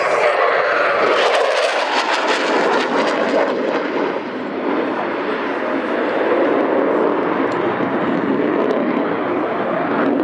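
At an air show, a military jet makes a 0.9 Mach high-speed pass as a loud, roaring rush that builds and then holds as a broad, powerful engine noise through the whole stretch.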